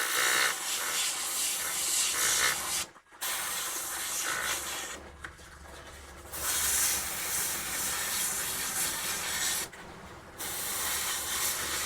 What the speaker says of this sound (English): And we'll start spraying.